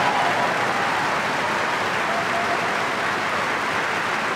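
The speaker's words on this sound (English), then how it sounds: "I hope the cameras are catching people who applaud." Audience at a stand-up comedy show applauding, a steady broad wash of many hands clapping together, loud and sustained without a break.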